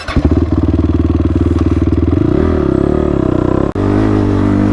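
An ATV fitted with Elka suspension revs hard and close, its engine note holding a steady buzzing rhythm before dipping and surging as it rides and jumps, with no talk.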